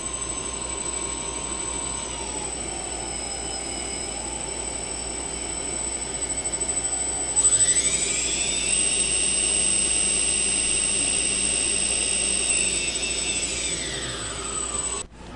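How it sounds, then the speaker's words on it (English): Quadcopter motors spinning together at closely matched speed, a steady whine that steps up to a higher, louder pitch midway, holds there, then drops near the end, with no talking. "I got all the motors running all the same RPM, basically, exactly."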